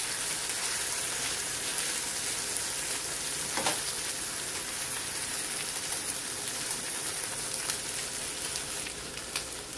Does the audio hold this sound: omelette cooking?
yes